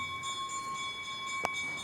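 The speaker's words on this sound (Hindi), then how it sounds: "तो घंटी बज रही" A bell rings in a quiet outdoor setting, steady tonal partials sustaining through the clip with a couple of brief sharp strikes near the end, faint and fairly distant.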